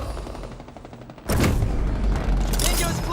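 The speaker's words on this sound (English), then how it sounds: "Taking fire." Gunfire in the video game Halo Infinite: a sudden loud burst of rapid shots erupts after a quieter stretch, with a second flurry of sharp reports near the end.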